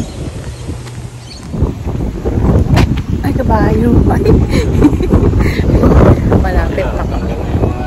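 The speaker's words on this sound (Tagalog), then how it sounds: "Mahangin." Strong gusty wind buffets the microphone on an outdoor walk, a steady roaring rush that swells after the first seconds, with a voice talking intermittently over it.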